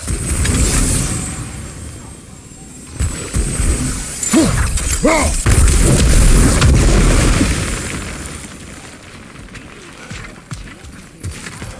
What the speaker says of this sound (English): we can burn those bombs from here